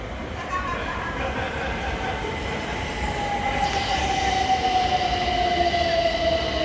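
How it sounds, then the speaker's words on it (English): A pair of Great Northern Class 387 electric trains runs through Hitchin station on the East Coast Main Line, with a steady close rumble and a long electric whine that glides slowly downward and grows louder. "Train line on platform 1 is going to be a pair of Great Northern Class 387s going from Cambridge to London King's Cross"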